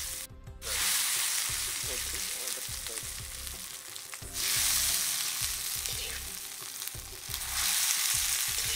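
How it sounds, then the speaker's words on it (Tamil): Hot sesame oil tempering is poured into a spicy kara chutney, setting off bursts of loud, close sizzling that swell, fade and return three times, with faint stirring clinks between them. "இப்போ நம்ம இந்த எண்ணெயை வந்து அதில் மொண்டு ஊற்றும் போது சுருக்குன்னு ஒரு சவுண்டு வரும் பாருங்கள்"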